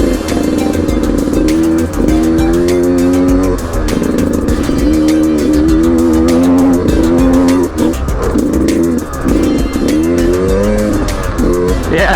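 A 2019 Beta 200 RR dirt bike engine revs hard during riding, loud and close, its pitch rising and falling repeatedly with throttle changes.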